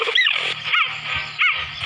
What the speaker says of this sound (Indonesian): Dengarkan beberapa suara cheetah berikut ini.